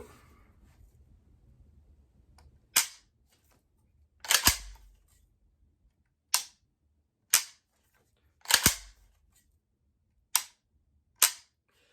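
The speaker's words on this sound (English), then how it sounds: "Let me see how it feels when I dry fire it." Dry firing a brand new LBE Unlimited G3 trigger in an AK rifle gives seven sharp, dry mechanical clicks spaced about a second apart, close and crisp against near silence.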